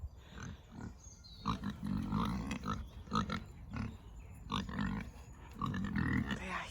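Pigs on a UK smallholding grunt and snuffle close by in irregular bursts, some louder than others, with faint farmyard background and no talking.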